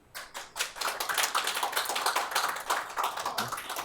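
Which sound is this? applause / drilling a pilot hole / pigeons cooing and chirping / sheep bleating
applause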